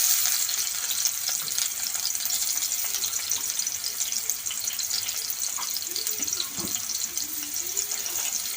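Chopped onion fries in hot oil in a pan while carrot fry is being cooked, giving a steady, close sizzling hiss with occasional soft stirring clinks.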